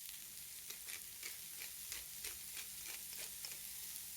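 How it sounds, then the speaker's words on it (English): Mushrooms sear and caramelize in a hot pan, giving a steady close frying sizzle with repeated crackling bursts and soft stirring scrapes throughout. "We saute the mushrooms, we caramelize them."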